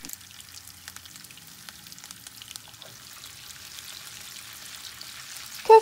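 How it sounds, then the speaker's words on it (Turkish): Köfte meatballs frying in oil in a pan, a faint, steady sizzle and light crackle continuing throughout, ending with a brief louder clink. "Kalan köfteleri de aynı şekilde kızartacağım."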